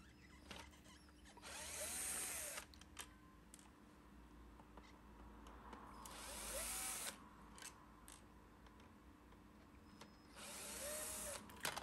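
A power screwdriver drives out three T15 Torx screws from the yoke cover of a Dyson DC25 vacuum cleaner, three separate whirring bursts a few seconds apart over a quiet background hum.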